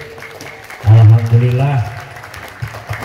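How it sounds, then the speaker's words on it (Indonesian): An audience claps at an Isra Mi'raj gathering at MTs Negeri 4 Cirebon, a steady wash of applause running through the whole stretch while a voice speaks loudly over it. "Tepuk tangan untuk Bapak Cecep Jalaluddin."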